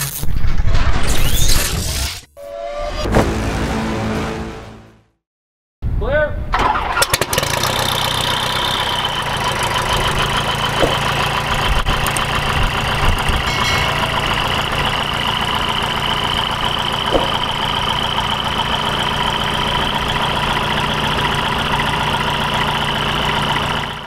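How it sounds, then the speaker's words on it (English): A 118-horsepower modified Continental O-200 experimental aircraft engine runs at a loud, steady, continuous roar. Before it, there are a few seconds of rougher noise and a brief silence. "their 118 horsepower modified O-200 engine"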